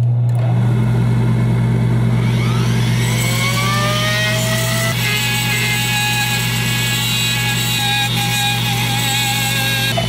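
A Foredom rotary tool fitted with a custom bit carves into hard antler, a steady high motor whine with rising pitch sweeps as it spins up and bites, loud and close with no talking.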